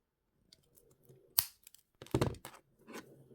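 Jewellery wire being cut for a mini pumpkin pendant, a few sharp close snips and crisp clicks separated by quiet handling noises, faint overall.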